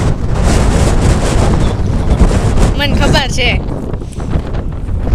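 Strong wind blows hard on a hilltop, a loud continuous rumble buffeting the microphone, while people talk briefly over it.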